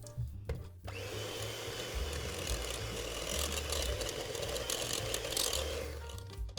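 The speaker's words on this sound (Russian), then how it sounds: "Хорошо это все сейчас мы с вами взобьем" Batter of baking powder, a pinch of salt and sour cream for an apple pie is beaten with a loud, steady motorised whir. It starts after a short pause, holds for about five seconds, then cuts off.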